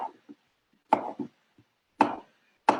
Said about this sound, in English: chop them a little bit.